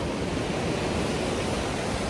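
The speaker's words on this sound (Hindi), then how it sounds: "पानी का बहाव काफी तेज है।" Fast-flowing river water on the road to Neelkanth near Rishikesh gives a steady, loud, broadband rush with no breaks. No voices are heard.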